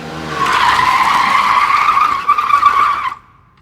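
A car's tires screech loudly as it brakes hard to a sudden stop on a road, one sustained squeal lasting about three seconds before cutting off abruptly.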